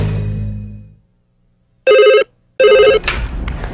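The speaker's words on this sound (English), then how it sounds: "Especially when that phone starts ringing" Two loud bursts of an old-style telephone bell ringing close by, each about a third of a second, separated by a short pause, after a fading low hum.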